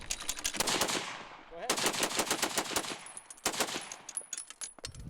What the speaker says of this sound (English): there's some children here today, to be given the opportunity to actually shoot the firearm